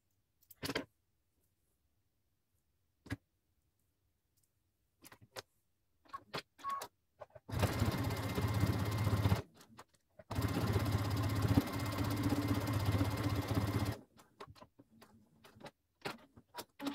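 Sewing machine zigzag stitching a leopard print bag: two sustained runs of rapid mechanical needle chatter separated by a brief pause, framed by scattered clicks and handling taps in a quiet room.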